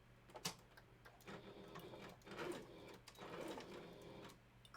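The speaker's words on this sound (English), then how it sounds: "I think it'll just be faster if we machine sew it" A sewing machine stitches fabric for fursuit handpaws, running in faint close mechanical bursts with short pauses between runs.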